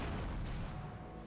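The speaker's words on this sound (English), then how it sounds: "Now watch the explosion." A loud, booming explosion in the Grand Theft Auto Vice City video game, a dense, continuous low rumble that fills the whole moment with no voices over it.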